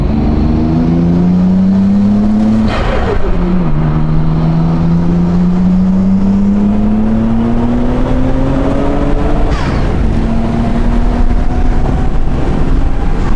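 Nissan R32 GT-R with HKS twin turbos revving hard on a dyno, a loud close engine note climbing, dropping sharply at a shift, then rising again in long sweeping pulls, no talking.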